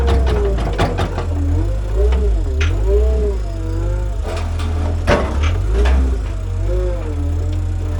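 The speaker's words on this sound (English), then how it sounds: "I do like this forklift" A forklift engine runs near a delivery lorry at a warehouse being unloaded of cages, with a low, steady mechanical drone and rising and falling whines as it manoeuvres, broken by sharp knocks and clatters of wooden cargo.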